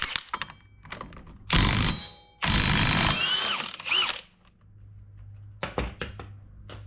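A ratchet works on a wheel nut of a Yamaha Rhino 700 utility vehicle, giving close, loud bursts of clicking and metallic turning separated by quieter pauses.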